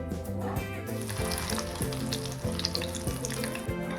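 Vegetable chops fry in hot oil, giving a steady, close sizzle that runs unbroken with a low tonal hum beneath it.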